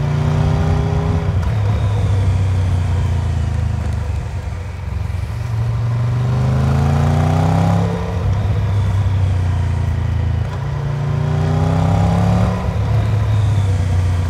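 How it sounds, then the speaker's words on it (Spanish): A Triumph Tiger 1200 GT Pro three-cylinder motorcycle engine revving repeatedly, rising and falling in pitch in several loud pulls, close and continuous without any speech. "estamos hablando ahora de un motor que no parece tricilíndrico en absoluto"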